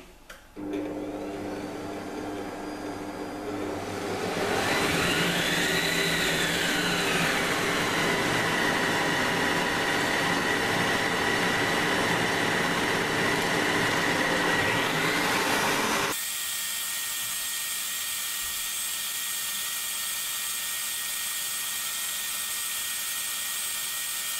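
A CookingChef Gourmet kitchen machine whisks egg and sugar at top speed 5, a steady loud motor whine with a rising and falling pitch sweep, then cutting off abruptly to a quieter hiss.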